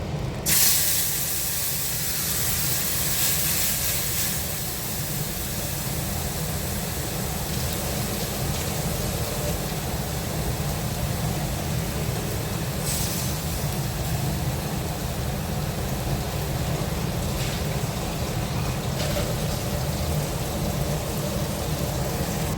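A homemade spice paste goes into hot oil for egg curry and sizzles in a steady, loud, unbroken hiss that lasts throughout, with a few brief brighter crackles along the way and no talking.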